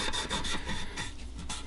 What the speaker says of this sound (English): Rub this on the sides a little bit.